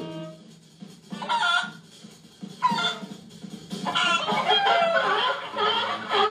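Chickens cluck and a rooster crows in place of dubbed anime voices, coming as several short bursts of squawking that grow denser and louder toward the end.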